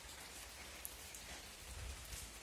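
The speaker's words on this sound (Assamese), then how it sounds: "বৰষুণ দি আছে দেখিছেনে" Rain pattering steadily on a surface in a rural Assamese village setting, a faint, even hiss with scattered drops and no talking.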